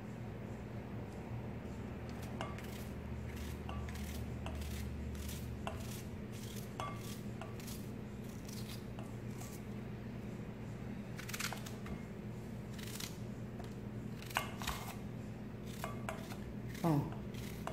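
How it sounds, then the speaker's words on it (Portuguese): Knife chopping red onions on a board for onion jam, quiet irregular taps in small bursts over low background noise, with a voice speaking now and then. "Terminando a última cebola, foram 5 cebolas, né? Picadas."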